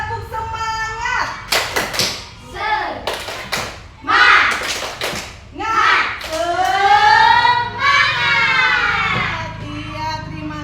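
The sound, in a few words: children doing a rhythmic spirit clapping chant in class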